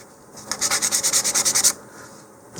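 A model rocket part is sanded by hand in about a dozen quick, even back-and-forth strokes, a close rhythmic rasping that starts and stops abruptly, with quiet before and after.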